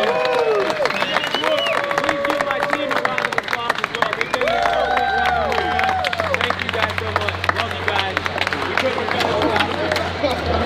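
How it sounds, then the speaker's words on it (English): An audience at an outdoor equipment expo show in Louisville, Kentucky claps steadily in dense, sustained applause, punctuated by a few cheers and crowd chatter, with a low hum beneath in the second half. "Give TQ a round of applause, too."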